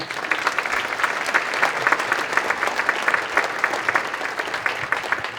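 An audience applauds steadily and loudly to welcome speaker Andy Puzder, a dense continuous clapping that stays even from start to finish.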